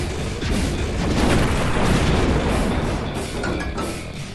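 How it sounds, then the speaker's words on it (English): Dense, continuous rumbling booms and bursts from the strategy video game Powargrid, loud and steady throughout with overlapping blasts, no voices. "The explosions are halfway decent"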